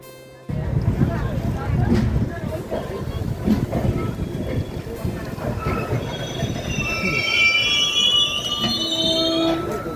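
A train rolls into Benares station with a steady rumble of wheels and carriages, and high, drawn-out brake and wheel squeals rise toward the end, with voices faintly in the background.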